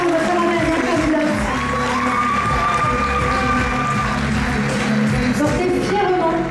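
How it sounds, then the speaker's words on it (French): A crowd at the Miss Côte d'Or 2024 election applauds and cheers for the final candidate, with loud sustained clapping, whoops and shouts, and a voice rising briefly above the din. "encore des applaudissements pour votre dernière candidate"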